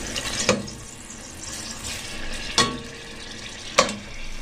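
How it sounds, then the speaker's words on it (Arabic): Meat sautés in a spoonful of ghee and oil with a steady low sizzle, broken by three distinct stirring scrapes in the pan, close by. "هشوح اللحمه كده في معلقه من السمنه."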